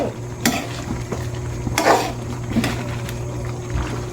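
Sautéed boktit with bilukaw stirred in a frying pan, a steady sizzle under several scraping utensil strokes against the pan, with no talk.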